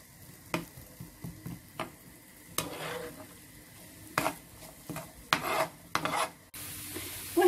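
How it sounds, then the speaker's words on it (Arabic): Onions frying with a little salt in a pan, a soft sizzle under repeated spatula scrapes and taps against the pan, close, with a louder steady sizzle at the end, no talking. "هذا البصل ذبلناه بشوية ملح"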